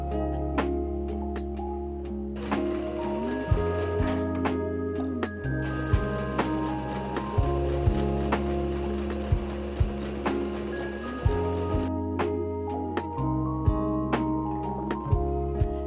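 A sewing machine stitches straight lines through cotton fabric and lining, giving a steady mechanical whirring hum with clicking and ratcheting, in several runs separated by brief pauses.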